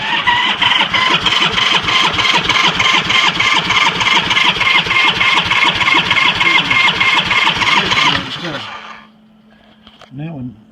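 A 1976 Ironhead Sportster engine is cranked over on its front cylinder during a compression test, giving about eight seconds of loud, rapid, evenly pulsing turnover that then stops, followed by faint mechanical noises.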